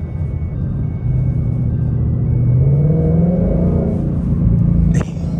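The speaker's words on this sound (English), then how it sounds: "Press the gas." A Ford Mustang GT accelerates from inside the cabin, a loud low rumble that climbs steadily in pitch as the engine revs rise, then drops off with a brief click near the end.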